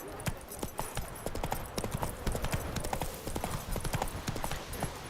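Horse hooves clip-clopping at a steady gallop in The Witcher 3, fast rhythmic thuds close and continuous for several seconds, with a faint voice now and then.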